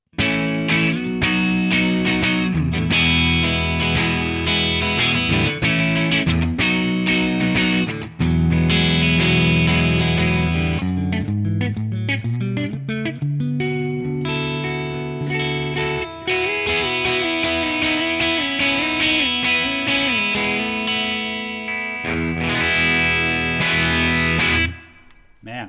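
An electric guitar played through a ToneX ONE Superbass 100 Edge capture gives a crunchy breakup tone with reverb: loud, sustained chords and riffs, alone and continuous for nearly the whole stretch, ending in a brief cutoff.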